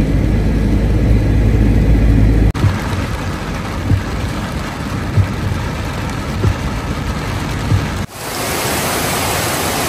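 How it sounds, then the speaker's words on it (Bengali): Heavy torrential rain pours down during a thunderstorm, a loud, dense roar of water that drops abruptly in level partway through, then swells back to full intensity near the end. "মুষলধারে বৃষ্টি হচ্ছে।"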